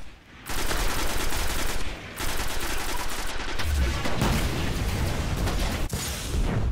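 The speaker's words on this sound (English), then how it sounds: "I just shot the interceptor" Rapid, sustained gunfire from Destiny gameplay, loud and dense bursts running nearly the whole time with a brief pause near the start and short gaps between volleys.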